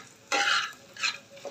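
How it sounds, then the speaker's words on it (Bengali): Lentil fritters fry in fish oil seasoned with turmeric and chili, giving short bursts of close, bright sizzling and stirring, one long burst followed by two briefer ones. "ডালের বড়াগুলো ভেজে দিব এই মাছের তেলটাতে"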